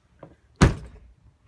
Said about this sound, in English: don't forget to shut the door